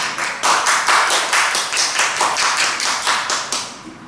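Church congregation applauding during a worship service, a loud, close burst of rhythmic clapping in a steady beat that continues throughout before easing slightly at the end, with no talk over it.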